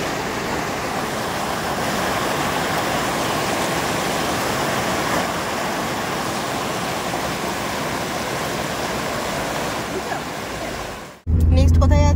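A hill river runs over rocks, heard up close as a steady, loud broadband rush. It cuts off abruptly near the end and gives way to a different, rumbling sound.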